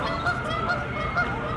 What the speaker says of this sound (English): The ducks are saying bye.